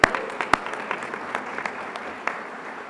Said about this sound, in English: A round of applause for the Dairy Arts Center.